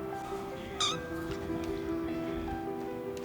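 A single short Ragdoll cat meow rises briefly over a steady background hum, with no other clear calls following.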